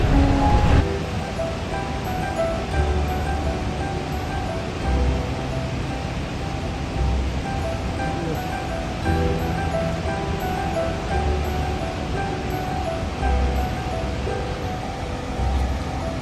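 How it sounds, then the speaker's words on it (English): Godafoss waterfall in northern Iceland, a steady broadband roar of rushing, falling water that holds even and continuous throughout, with no voices over it. "We have just arrived to Godafoss waterfall, and this place is really pretty because there's two waterfalls right by"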